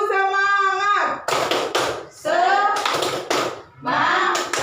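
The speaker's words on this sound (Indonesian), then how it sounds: "Tepuk semangat." A group of people in an Indonesian teacher training session performs a rhythmic spirit clap, bursts of clapping in time between shouted chants from a leader and the crowd.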